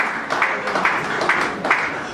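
Wedding guests at a religious wedding evening party clap together in a dense, sustained burst of applause with a few louder swells, fairly close and loud, with no talking over it.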